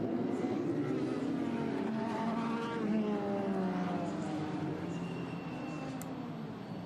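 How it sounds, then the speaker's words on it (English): Formula Renault 2.0 race cars sit on the grid at the Red Bull Ring, a dense continuous engine drone with wavering pitches from several cars at moderate distance, steady throughout with no speech. "Cars on the grid."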